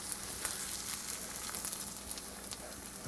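An egg sizzling steadily in a hot pan as it gets flipped, its frying hiss soft and even with a few small pops and crackles, no talking.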